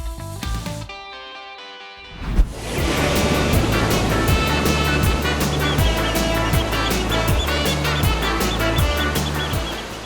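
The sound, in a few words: sea waves at Sayang Heulang beach, Garut, at low tide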